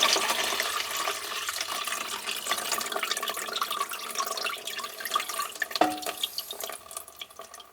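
Water drains and splashes into a container as a plumbing fitting is pulled out during a repair, a steady trickling rush with drips and a few knocks near the end.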